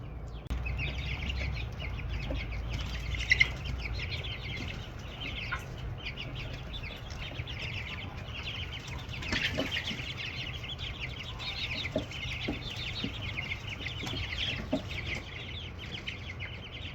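Chickens cluck softly throughout, a steady chorus of murmuring calls under low background rumble, with an occasional louder squawk.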